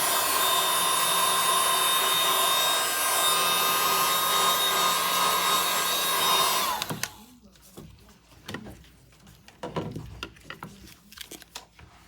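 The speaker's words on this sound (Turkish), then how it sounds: "Evet kapağı yapıştıracağımız yeri güzelce temizliyoruz." Steady loud blowing hiss from a tool cleaning the cover gluing area of a Samsung Galaxy A5 2017 (SM-A520) phone, cutting off abruptly partway through and followed by quiet scraping and handling noises.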